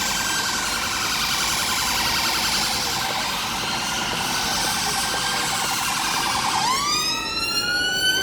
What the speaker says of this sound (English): Amount of noise that ambulance is making